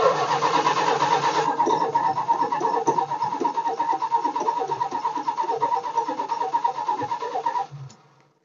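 A 440 Mopar V8 cranks on its starter without firing, a loud, close, rhythmic churning that runs steadily for about seven and a half seconds before cutting off.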